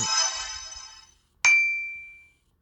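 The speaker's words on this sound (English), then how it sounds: "notification that we got some settlers." A bright chime signals new settlers arriving in Lands of Lords: a fading shimmer of tones, a brief pause, then a single clear ding that rings out and decays.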